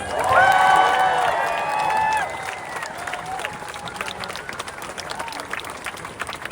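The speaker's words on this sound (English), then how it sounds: "Can we give Dr. Edwards a round of applause?" Crowd at a pro-democracy rally in Austin, Texas, bursting into applause and cheers for a speaker, loudest in the first two seconds before settling into lighter scattered clapping with voices calling out.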